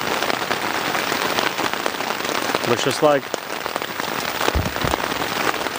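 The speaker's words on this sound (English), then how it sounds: "Okay, we're full on rainstorm now." Heavy rain pours steadily on a campsite during a canoe trip, a dense close hiss of drops on surfaces throughout, with a brief spoken remark partway through.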